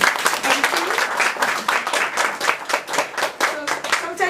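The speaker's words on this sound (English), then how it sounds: "A round of applause, please." Applause from an audience at an art gallery anniversary event, a dense, steady clatter of many hands clapping close by for several seconds without pause.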